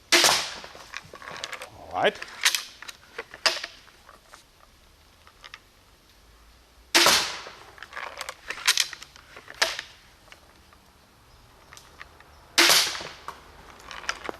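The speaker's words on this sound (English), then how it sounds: "what do I think about the ball shooting crossbow adaptation?" A crossbow adapted to shoot balls fires with sharp snapping releases, three main shots spaced several seconds apart, each followed by quick rattling taps, with a brief spoken word at the start.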